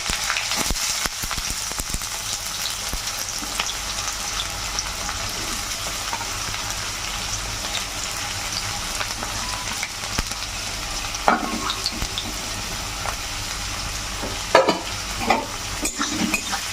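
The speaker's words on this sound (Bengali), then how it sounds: "তেলের সঙ্গে পেঁয়াজগুলো ভালো করে ভেজে নেব।" Chopped onions fry in hot oil in a pan for a Bengali mushroom curry, a steady broadband sizzle throughout with occasional stirring scrapes and clinks near the end, no voices.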